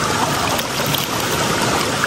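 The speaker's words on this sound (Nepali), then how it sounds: "अब चाहिँ हामी थोरै मुख धुन्छौँ" Cold water splashing and trickling steadily as someone washes their face outdoors at a Nepali stream spot, a continuous close, fairly loud wash of flowing water with no talk.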